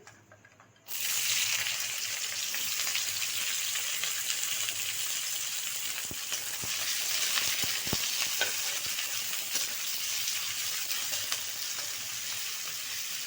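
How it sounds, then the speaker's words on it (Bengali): Chopped onions sizzle steadily in hot oil in a pan while cooking a potato and fish-head dish, a continuous soft hiss with a few faint clicks of stirring. "যে পেঁয়াজটা একটু ভাজতে হবে"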